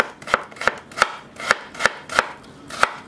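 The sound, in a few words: knife cutting vegetable slices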